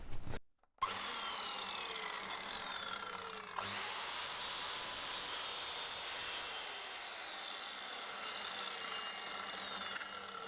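A MacAllister 1500W 210mm sliding mitre saw spins up with a sharp whine, then cuts through wood for several seconds, loud and close, before winding down.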